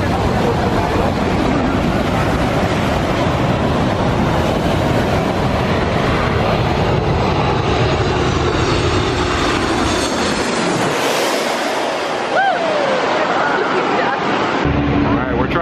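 A small aircraft approaching to land at St. Maarten makes a loud, continuous broadband roar that swells and shifts toward the end, heard up close through strong wind buffeting.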